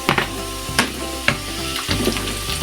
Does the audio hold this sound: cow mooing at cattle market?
no